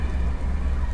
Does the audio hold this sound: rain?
yes